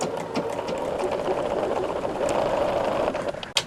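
A sewing machine stitching a quilt block late in the evening, its motor whirring in a steady, fast, even run, close and fairly loud, ending with a short clunk as it stops, no talking.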